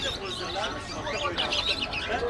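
Caged songbirds, including yellow canaries, for sale at the Fergana farmers' market in Uzbekistan make a dense, continuous chorus of overlapping chirps and tweets over a steady market background hum.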